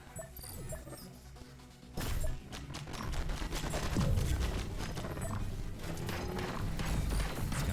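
Rapid bursts of gunfire from a competitive match of the VR shooter Blaston, several volleys running together with crashing impacts, moderately loud and continuous.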